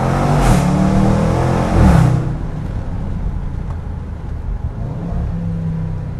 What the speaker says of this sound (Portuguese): nós possamos ouvir essa verdadeira sinfonia inglesa